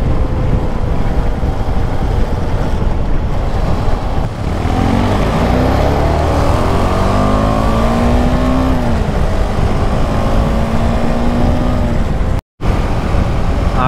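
KTM 250 Adventure motorcycles riding an off-road trail near Mumbai, loud engine drone with rising and falling rev sweeps as the bike accelerates and shifts, close and continuous with a brief dropout near the end.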